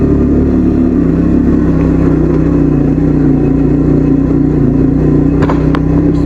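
A four-wheel vehicle's engine held under steady power on a rough, dangerous route in Babon, a continuous low droning rumble that stays loud and close throughout without clear rev swings.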